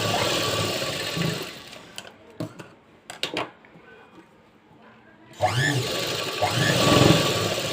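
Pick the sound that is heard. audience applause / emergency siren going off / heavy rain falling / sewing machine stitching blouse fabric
sewing machine stitching blouse fabric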